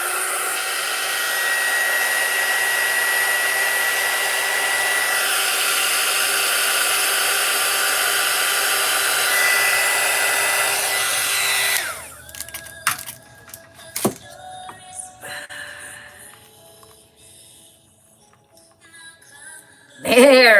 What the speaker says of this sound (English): Blow dryer going on, guys.